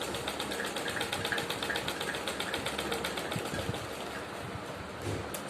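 A sewing machine runs steadily, stitching a straight seam on suit fabric, its continuous rapid needle chatter a close, even mechanical buzz with no pauses.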